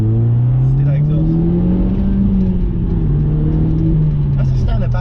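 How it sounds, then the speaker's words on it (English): VW Golf with a standard exhaust back box revving, a droning, fairly high-pitched engine tone rising and falling gently as the revs climb and settle, loud and close, with a voice speaking over it. "That's a standard back box. It's not great, it doesn't make a great noise, like it's very high pitched"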